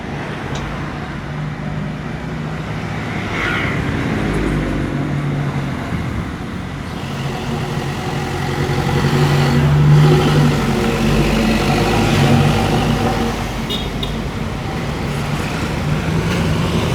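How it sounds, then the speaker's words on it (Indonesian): Heavy midday road traffic on the Padang–Bukittinggi highway, a continuous dense roar of passing cars and engines with heavier vehicles swelling past, steady and fairly loud throughout. "cukup padat sekali ya teman-teman arus kendaraan pada siang hari ini sekitar jam 1 siang di jalan lintas Padang Bukit Tinggi"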